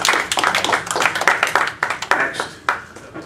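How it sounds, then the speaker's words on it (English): An audience at a civic forum on Illinois corruption claps in a brisk, continuous burst of overlapping handclaps, fairly close and dense, thinning slightly toward the end. "let's give our author again one more round of applause"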